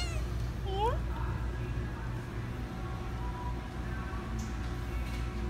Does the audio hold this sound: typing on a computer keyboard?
no